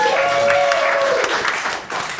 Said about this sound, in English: Oh, Hank Azaria, round of applause right there.